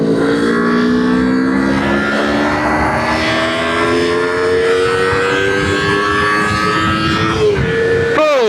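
A Kawasaki Ninja 250 ABS engine revs up steadily under load, its loud rising whine climbing in pitch over several seconds before a quick drop and fresh climb at a gear change near the end, with wind noise throughout.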